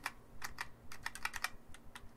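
Crisp, clicky keystrokes on an 87-key mechanical gaming keyboard tap out in quick irregular bursts, close and fairly quiet, with short pauses between flurries of typing.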